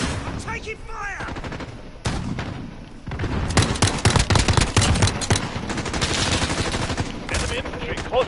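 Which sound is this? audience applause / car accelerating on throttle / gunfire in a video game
gunfire in a video game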